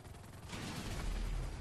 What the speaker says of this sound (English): Helicopter battle.